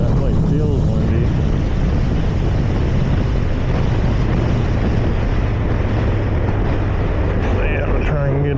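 Wind roar and a low engine drone dominate while riding a motorcycle on the road, a steady loud rush from the rider's position with no voices.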